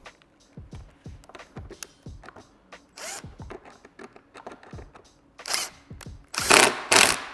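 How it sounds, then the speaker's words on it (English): Cordless impact driver hammering in bursts, several short rattling impact runs at close range with brief pauses between, the loudest and longest bursts near the end. "It'll make that impact noise."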